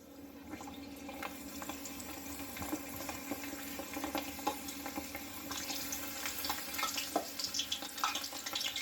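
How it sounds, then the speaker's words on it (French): Artichokes lowered into hot oil for Jewish-style carciofi alla giudia give a quiet, steady hiss and crackle of frying that builds slightly over several seconds, with no talk. "on met nos artichauts. Je baisse un peu le feu, on les dépose tranquillement."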